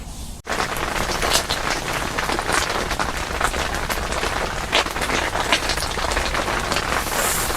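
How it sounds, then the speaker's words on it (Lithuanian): Steady rain pattering on a surface, dense and continuous, with scattered louder drops throughout. "Lyja."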